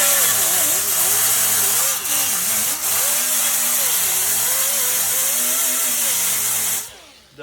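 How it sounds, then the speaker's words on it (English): A power grinder running continuously and loudly, stripping thin shipping paint from a classic car body panel before rust repair, with a steady high-pitched whine that wavers under load for about seven seconds, then cuts off. "Let me grab my grinder."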